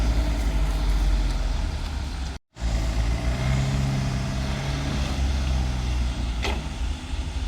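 A car pulls away toward the garage, its engine a steady low rumble close by, broken by a brief cutout partway through, with no voices.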